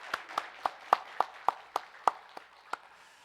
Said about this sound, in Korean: 다시 한번 우리 올해도 열심히 하시라고 박수를 한번 격려하겠습니다